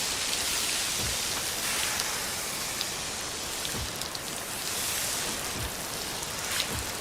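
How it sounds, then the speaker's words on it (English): Heavy rain falls in the city-building game Cities Skylines 2, a dense, steady hiss broken by occasional soft thumps, with no voices heard. "Oh gosh, it's raining pretty hard."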